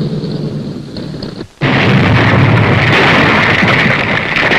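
A heavy aerial bomb detonates during bombing tests against a battleship: a steady roar gives way to a brief dip, then a sudden massive blast that swells into a sustained, loud rumbling wash.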